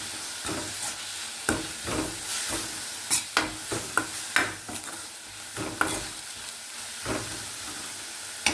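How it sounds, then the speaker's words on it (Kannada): Coriander leaves dropped into a hot sizzling tempering in a pan and stirred, with a steady frying hiss and sharp spoon scrapes and clicks at irregular intervals, close and without speech. "ಇವಾಗ ಇದಕ್ಕೆ ನಾನು ಕೊತ್ತಂಬರಿ ಸೊಪ್ಪನ್ನು ಹಾಕ್ಕೊಳ್ತೀನಿ ನೋಡಿ."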